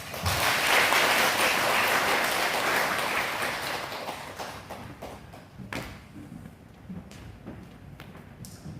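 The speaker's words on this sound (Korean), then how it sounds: "다시 한번 뜨겁게 박수 주십시오" Loud applause from a large church congregation fills the opening seconds, then gradually fades into scattered claps and thumps.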